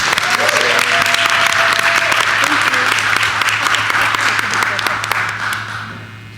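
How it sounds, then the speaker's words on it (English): At a Linden board of education meeting, the room gives a sustained round of loud, dense applause that holds steady for several seconds, then thins and fades away at the end. "may we give her a round of applause."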